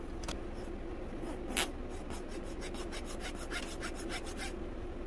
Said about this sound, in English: Let's see how well it files.